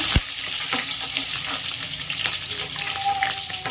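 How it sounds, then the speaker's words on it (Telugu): Thinly sliced green chilli pieces hit hot oil with a sharp burst at the start, then fry in a steady, loud sizzle with occasional crackles and soft stirring clatter, no talking. "ఆయిల్ వీటెక్కగానే మనం సన్నగా కట్ చేసి పెట్టుకున్న పచ్చిమిర్చి ముక్కలు వేసుకుందాం"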